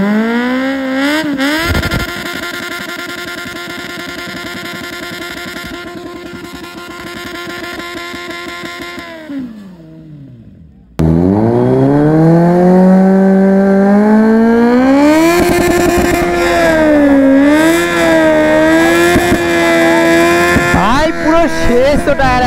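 Kawasaki Z900 motorcycle doing a burnout in heavy smoke, its engine held at a high steady rev for several seconds, dropping off, then roaring back up and climbing again, loud and close throughout.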